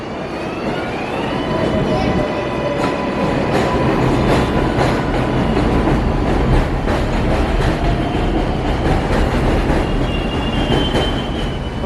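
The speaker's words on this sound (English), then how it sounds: "Look, it's a cool work train." A subway work train sits at an elevated New York 7 line station near Flushing, its wheels squealing and cars rumbling and clattering steadily throughout, loud and close, with no talk over it.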